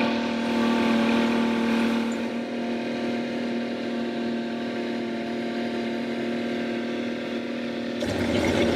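An Evinrude 150 outboard motor running during its run-in period, a steady droning engine hum at constant revs with a faint tonal whine, continuous and fairly loud, shifting character near the end.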